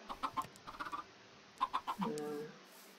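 Chickens clucking in the video game Minecraft 1.18, penned in a block enclosure on a farm, giving several short clucks in quick bursts followed by a longer drawn-out squawk, fairly faint and alone.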